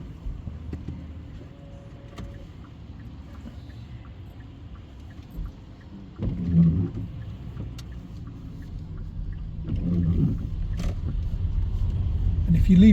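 A car pulls away during a driving test in Leeds, a low engine rumble that swells as it moves off, with brief talk inside the cabin.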